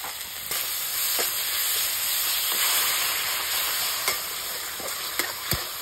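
Chili paste and turmeric fry in hot oil in a Bengali kitchen, making a steady, dense sizzle up close. Occasional light clicks of stirring come through, and no one talks.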